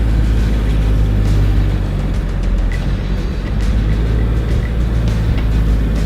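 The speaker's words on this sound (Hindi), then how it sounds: "भाई साहब यहाँ पर जो गाड़ी है वो चल रही है फिलहाल" A small-engine car fitted with giant tractor tyres drives along a road, its engine a loud, steady low drone with rough rumbling texture that continues without pause.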